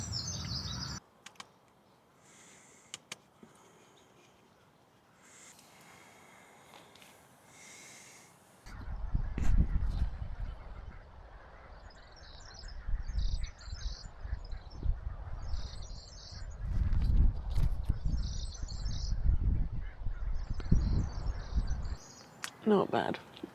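Pigeons, rooks and other birds chirp and twitter in repeated high bursts in the distance in the morning at a campsite at Durdle Door Holiday Park, over steady low rumbling and occasional handling noise.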